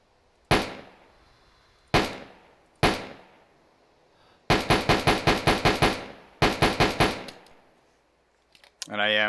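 M1 carbine fire in ArmA 3 with the IFA3 Lite WWII mod: three spaced single shots, then a fast string of about nine rounds and a shorter burst of five, each crisp and close with a short tail, ending in a brief mechanical rattle.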